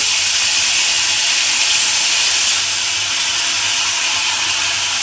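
A paste of poppy seed, white mustard and green chili fries in hot oil for a vegetarian pointed gourd dish. It gives a loud, close, continuous hiss that eases slightly after a few seconds. No voices are heard.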